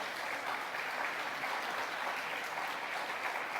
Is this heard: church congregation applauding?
yes